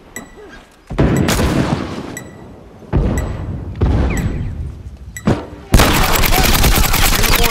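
Loud shotgun blasts in The Last of Us Remastered, several booming shots in irregular bursts with a sustained crackling barrage at the end, and a voice speaking briefly between shots.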